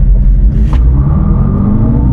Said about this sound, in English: We're going to hit the brakes, and then we're going to punch the throttle.